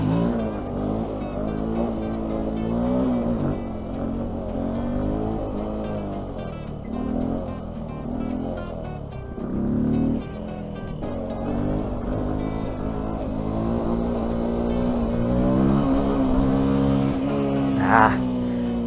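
Benelli TNT 125 motorcycle engine revving hard during a wheelie attempt, a loud, steady high-pitched drone with rising and falling revs that holds close for the whole stretch, with no talking.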